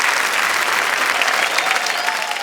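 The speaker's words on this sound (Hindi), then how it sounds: "ये ताली बजाने वाली बात है।" Sustained audience applause at a comedy stage show, a dense, loud, continuous clapping from a large crowd throughout.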